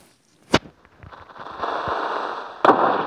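Minecraft combat against a creeper, with two sharp, loud bursts roughly two seconds apart and a steady noisy hiss and scattered clicks in between; no talking.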